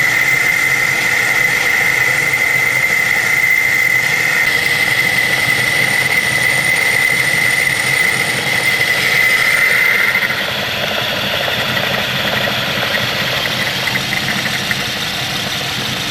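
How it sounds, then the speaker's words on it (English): A lathe facing off a collar for a Picco P7 Evo 3 engine runs with a steady mechanical hum and a thin, sustained cutting whine that stops partway through, leaving the motor droning on. "this is the last bit of machining on the collar. We're just facing off to the correct dimensions here"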